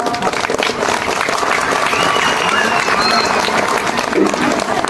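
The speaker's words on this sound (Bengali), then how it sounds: "হাততালি দাও হাততালি দাও" An audience of students and guests at a school prize-giving in a high madrasa applauds loudly and continuously, dense clapping filling the hall, with murmuring voices underneath.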